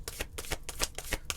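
Moonology oracle cards shuffled for a full-moon reading, a quick run of crisp, riffling card flicks repeating in a steady rhythm, close and clear with no talking.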